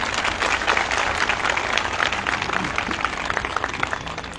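A rally crowd applauding, a dense continuous wash of clapping from many hands that stays even and fairly loud throughout, with a faint hint of voices beneath.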